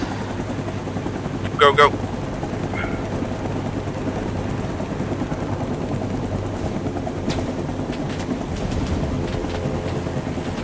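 A military helicopter thrums steadily in a Vietnam War battlefield game, with a low continuous rotor drone throughout, while a man briefly calls out over it.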